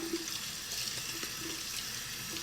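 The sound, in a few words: water tap turned on, water running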